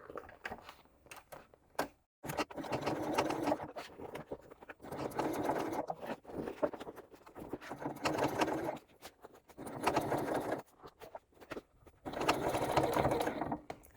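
A sewing machine runs in several bursts of steady stitching on a bag panel, with short pauses between runs, close and fairly loud.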